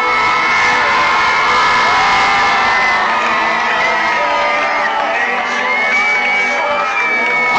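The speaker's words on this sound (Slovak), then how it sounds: "A kričí celé námestie SMP." Large crowd on a city square in Bratislava roaring and cheering at a hockey championship celebration, dense loud shouting and whoops sustained throughout with individual voices rising above the mass.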